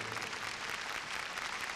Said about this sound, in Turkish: Şimdi hep beraber İsa Mesih'e koca bir alkış verelim.